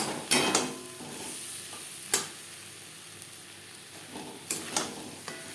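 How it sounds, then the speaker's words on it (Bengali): Boiled potatoes coated with turmeric are stirred into spice masala in a pan for a rohu fish curry. A few scraping, sizzling stirs come in short separate bursts over a quiet simmering background, with no talking. "মশলার সাথে আলু বেশ ভালো করে মিক্সড করে দেবো।"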